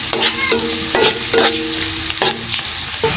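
Onion sautéing in a pan, a close, loud sizzle with rhythmic stirring scrapes about every half second, no speech.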